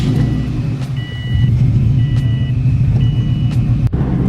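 A car engine idles steadily after a restart, following cleaning of its idle air control valve. The low hum is loud and close, with faint high beeping tones over it and a brief dip near the end, with no voices.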